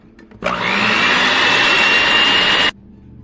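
An electric mixer whirs steadily through lemon ricotta pancake batter, a loud, even motor drone with a high whine that starts abruptly and cuts off cleanly after about two seconds.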